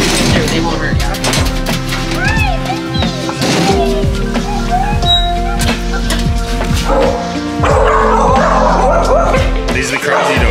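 Dogs at a shelter in Mexico bark repeatedly and loudly, several animals overlapping in a constant chorus of barks and yips, with whimpers and people talking underneath.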